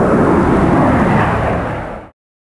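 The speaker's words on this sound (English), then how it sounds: "Plane coming, gotta go." An airplane roars overhead outside an animal shelter, a loud, dense rumble that holds steady for about two seconds before cutting off abruptly.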